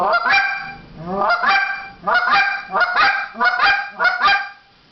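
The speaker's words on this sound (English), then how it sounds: "it's going to be a double cluck. And there's a couple different ways to do a double cluck. You can do low to high." A goose call sounds repeated double clucks, each pair rising from a low note to a higher one in a steady, loud rhythm.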